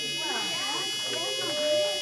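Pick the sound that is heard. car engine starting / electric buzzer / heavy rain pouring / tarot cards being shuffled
electric buzzer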